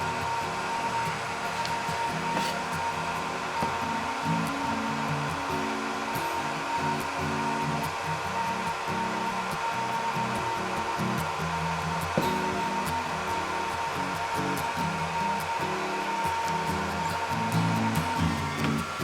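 Heat tool blowing hot air steadily to cure red vinyl repair filler compound, a constant close whooshing hum with a faint motor whine, unbroken and alone throughout.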